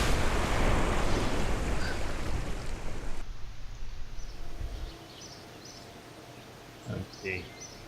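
A Kerbal Space Program capsule splashes down into ocean waves, with a loud rushing wash of water and wind that cuts off abruptly, followed by quieter lapping and a couple of soft thumps.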